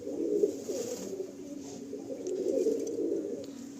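A pair of Dowaj pigeons in a pigeon loft at Ichchapur coo softly and close by, a low, rolling burble repeating in uneven pulses with no voices.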